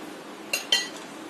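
A utensil clinks twice against a dish while red food colouring is stirred into a biscuit dessert foam. The two sharp, close taps fall a split second apart over a quiet background.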